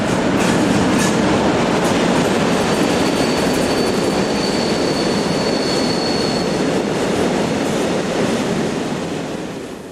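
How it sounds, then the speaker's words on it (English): An XDR Class 155 electric locomotive hauls a northbound block freight train past at close range. Wheels rumble and clatter steadily for about ten seconds, a thin squeal rises briefly midway, and the roar eases slightly toward the end. "Here XDR Class 155 number 249 heads this northbound block freight on 19th June"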